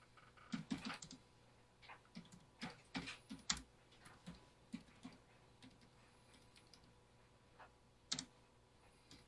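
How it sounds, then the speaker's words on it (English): Fingers type on a computer keyboard, quick clusters of faint, close key clicks with brief gaps and one sharper tap near the end. "So let me type that in."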